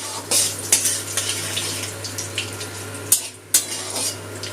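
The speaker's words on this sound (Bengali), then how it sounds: "ফোড়নটা একটু তেলে ভেজে নেব।" Dry red chilli, panch phoron spices and bay leaves fry in hot oil, a light close sizzle punctuated by scattered spatula taps and two sharper metallic knocks against the pan.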